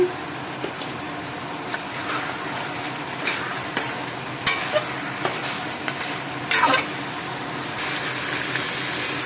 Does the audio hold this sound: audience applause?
no